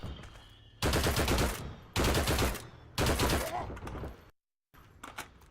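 Gunfire in the video game Frontlines, three loud sustained bursts of rapid automatic shots about a second apart, close and dominant, followed by a gap of silence and a few fainter shots.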